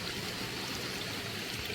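Faint, steady rush of stream water pouring through a small broken dam at an off-grid property after heavy rain, a continuous hiss and gurgle with no voices.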